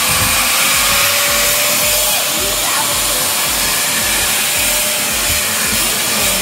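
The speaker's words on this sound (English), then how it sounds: "You want to vacuum it? I'll vacuum it." A vacuum cleaner runs steadily and loudly throughout while dust is cleaned up around a pool during spring cleaning, a continuous broadband whine with no pauses.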